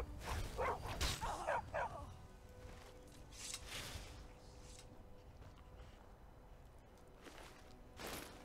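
A dog barks and yips in the video game Skyrim: a few quick barks early on, then quieter whimpers and footsteps under faint game ambience, with no talk.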